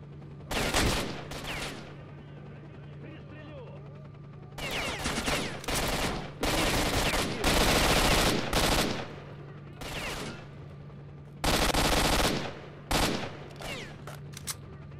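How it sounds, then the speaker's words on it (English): Loud bursts of automatic gunfire from S.T.A.L.K.E.R.: Shadow of Chernobyl come in several separate volleys, each a dense rattle of many rounds, separated by quieter stretches of ambient game sound. "Oh, that was a lot of bullets."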